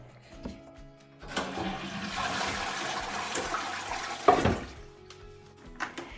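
A household toilet is flushed to empty its cistern: a loud rush of draining water runs for about three seconds, then fades into a quieter trickle as the bowl settles, with no talk.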